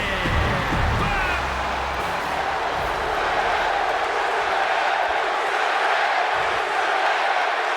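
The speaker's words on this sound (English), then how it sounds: "the crowd is behind Rusev right now, chanting Rusev Day" A video game arena crowd in WWE 2K26 chants 'Rusev Day', a dense, steady roar of many voices that fills the space, with rhythmic chanting under the din and brief louder swells at the start.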